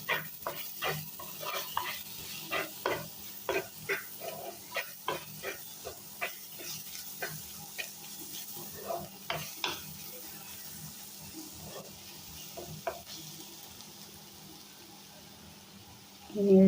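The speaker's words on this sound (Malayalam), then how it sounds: "ഇതിൽ നന്നായിട്ട് വഴറ്റുക." Ginger and garlic sautéing in a pan give a soft frying hiss under a series of rhythmic scraping strokes from stirring, fairly quiet and close, ending with a brief louder clatter.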